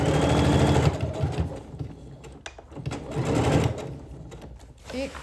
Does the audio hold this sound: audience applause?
no